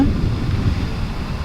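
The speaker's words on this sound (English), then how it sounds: "Windy." Strong wind on a white-sand beach, a steady low roar buffeting the microphone from start to finish with no other sounds.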